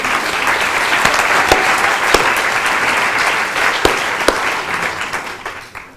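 Loud, sustained applause from an audience at a French eloquence competition in Lot-et-Garonne, honouring a young lawyer. Thick clapping carries on steadily and thins out near the end.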